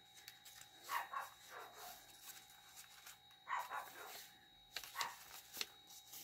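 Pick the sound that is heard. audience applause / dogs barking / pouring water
dogs barking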